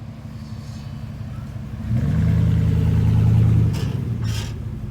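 Dodge Ramcharger engine revving up hard, a low idle that swells into a loud, deep roar for about two seconds before easing back, close by with no talking.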